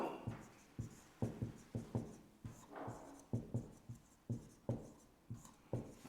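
Pen scratches across paper in quick separate strokes, close and quiet, writing out a quadratic polynomial in a maths lesson with no talk over it.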